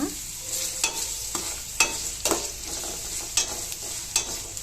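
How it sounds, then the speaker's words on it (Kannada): Onions frying in a pan for a Tumakuru-style upsaaru palya, a steady close sizzle broken by regular scraping stirs of a spatula every second or so, with no talk. "ಈರುಳ್ಳಿ ಈರುಳ್ಳಿ ಎಲ್ಲ ಚೆನ್ನಾಗಿ ಫ್ರೈ ಆಗಬೇಕು"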